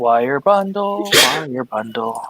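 One sharp, close sneeze bursts out in the middle of a man's speech and is over in a moment.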